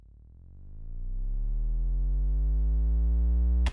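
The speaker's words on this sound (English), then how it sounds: "a bass drop that I've just gone in and I just reversed it" A reversed bass drop used as a riser, a deep, quiet low tone swelling in and holding steady for several seconds before cutting off abruptly at the end.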